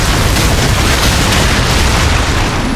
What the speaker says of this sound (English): he rigs the room to blow so me and Price sprint for it